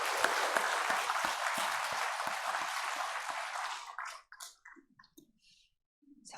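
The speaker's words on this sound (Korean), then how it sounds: "우리 하나님 앞에 감사의 박수 한번 올려드리겠습니다." A church congregation at a Sunday service claps together in sustained, dense applause for about four seconds, then it fades into a few scattered claps and quiet.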